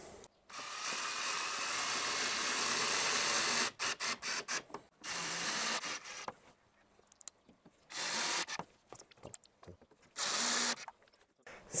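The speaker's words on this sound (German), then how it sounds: "da ballern wir jetzt unsere Schrauben rein und dann machen wir die Rückseite" A power drill drives screws into a wooden enclosure for an Ikier E2 laser engraver. One long whirring run gives way to a string of short stop-start bursts, with quiet gaps between them and no talking.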